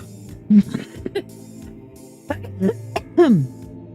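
A few short, throaty coughs and throat-clearing sounds spaced apart, close and fairly quiet, with brief vocal noises between them.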